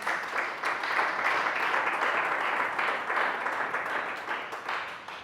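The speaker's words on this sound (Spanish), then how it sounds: "Dale un fuerte aplauso a Cristo Jesús." A church congregation claps together in a steady, dense burst of applause that holds for several seconds, close and even, with no speech over it.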